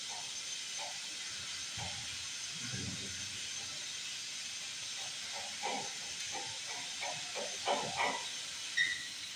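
Water rushes through a sprinkler system drain valve as a steady hiss, with scattered clanks and knocks from the pipework building toward the end.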